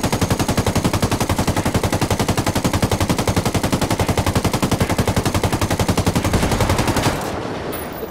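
Sustained rapid automatic gunfire from an Apache helicopter in Ghost Recon Wildlands, a loud continuous burst lasting about seven seconds before cutting off abruptly.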